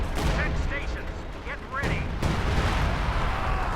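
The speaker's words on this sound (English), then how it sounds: "The Priests are firing on the middle." Priest self-propelled artillery firing in a World War II strategy game: heavy gun blasts rumble under a dense battle din, with a sharp report near the middle and a voice talking over it.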